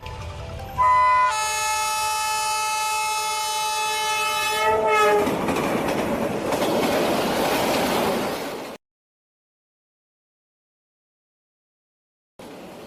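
A train blares its horn in a long sustained blast, then roars past loudly with rushing rumble before cutting to silence.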